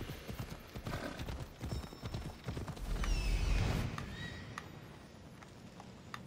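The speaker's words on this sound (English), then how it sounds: "when you're traveling on the horse through the woods" Horse hooves clip-clop steadily in Assassin's Creed Odyssey while riding through woods, a rapid even rhythm of close hoofbeats with a brief whinny-like sweep in the middle, no talking.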